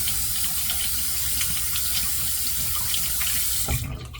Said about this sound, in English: Let's get this brush wet.